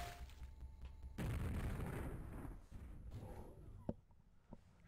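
A rocket explosion in the Quakeworld game lands as a sudden loud boom that rumbles and fades over a couple of seconds, followed by smaller pops.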